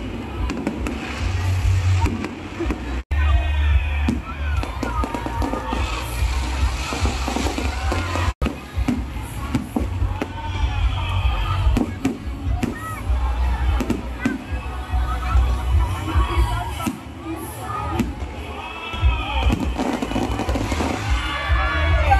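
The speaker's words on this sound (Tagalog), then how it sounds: "natapos din ang napakahabang fireworks display" A long fireworks display at a Christmas food bazaar in Maragondon, Cavite: repeated loud bangs and crackling bursts over a noisy, cheering crowd, with people talking throughout.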